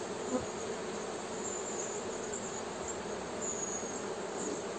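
A wild swarm of bees buzzes steadily around a hive, a dense, even drone that holds without a break and is heard alone.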